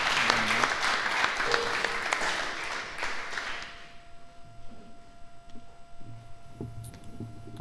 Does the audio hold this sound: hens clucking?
no